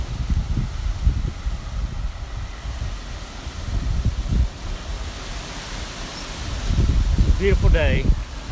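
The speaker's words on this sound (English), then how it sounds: "Pretty windy today." Wind gusts buffet the microphone outdoors near a railroad sawmill spur, loud rumbling bursts that swell and fade in uneven waves, with brief talk partway through.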